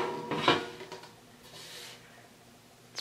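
A Cosori air fryer's large basket being handled, giving a sharp clatter of the basket near the start, followed by a few softer knocks and a low background hum.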